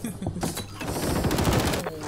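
Call of Duty: Modern Warfare III multiplayer match, with bursts of rapid automatic gunfire cracking loudly and continuously alongside a brief game voice line.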